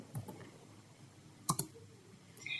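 Keys on a computer keyboard click quietly as commands are typed: a couple of soft taps at the start, a sharp pair of keystrokes near the middle, then a short burst at the end.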